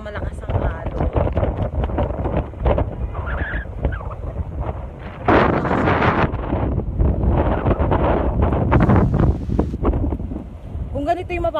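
Strong wind gusts at a beach house by the sea, buffeting the microphone with a steady low roar that swells midway, while people talk throughout.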